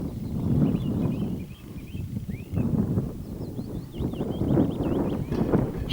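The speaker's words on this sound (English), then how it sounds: "a northerly wind, Andy." Northerly wind blowing across an open Scottish hillside near Callander, a steady broadband rumble that swells and eases, with faint bird chirps in the background.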